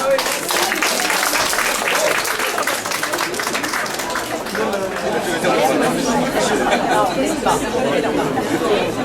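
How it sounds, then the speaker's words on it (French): An audience at a restaurant's 10th anniversary party claps, a steady wash of applause mixed with lively crowd chatter and voices throughout, filling the room evenly from start to finish. "Alors on peut déjà l'applaudir."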